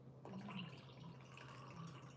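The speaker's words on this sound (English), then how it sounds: "Wait a second, pour some more tea." Tea being poured, a steady liquid trickle running at moderate level for about two seconds after a brief quiet start, with a low hum underneath.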